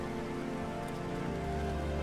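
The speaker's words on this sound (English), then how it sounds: "now we're hanging out in the rain" Steady rain falls in the video game Minecraft, a dense, even hiss of drops spread across the whole stretch without pauses or voices.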